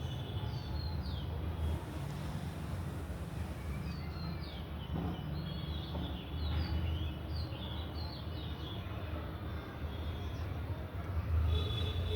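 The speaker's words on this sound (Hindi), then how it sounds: "चिड़ियों की आवाज़ को सुनने का प्रयास।" Faint, scattered bird chirps and calls drift over a steady low rumble of wind and distant outdoor noise.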